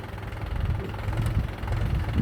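A tractor engine runs with a steady low chugging idle, close by and fairly loud, alone without talk.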